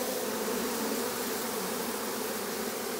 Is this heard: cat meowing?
no